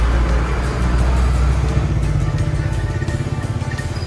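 A packed car drives along the road home, a steady low engine and road rumble close by, alone without talk.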